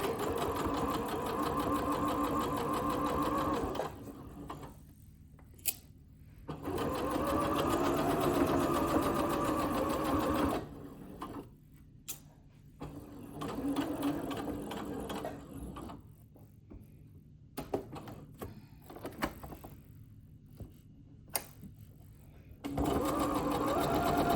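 A sewing machine stitches around the outer edge of a piece of fabric in several steady, fairly loud runs, each broken by short pauses with soft clicks as the work is turned.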